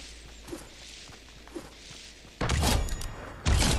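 A grenade blast in the Fortnite video game, bursting loud and broad near the middle of the clip and followed by a second heavy blast, with quieter thumps and footsteps before it.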